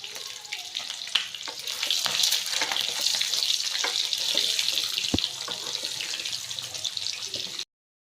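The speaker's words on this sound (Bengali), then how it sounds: "তো ডিম ভুনা করার জন্য পেঁয়াজটা দিয়ে দিল গরম তেলে।" Chopped onion for egg bhuna frying in hot oil in a home kitchen, a steady bright sizzle running the whole time with a few sharp clicks and knocks, loud and close, no talk.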